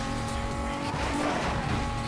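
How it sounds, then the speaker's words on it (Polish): A race car in the Need for Speed Most Wanted (2005) video game, turbocharged engine revving high with tire squeal, a dense continuous roar throughout. "Turbo, na wysokie obroty."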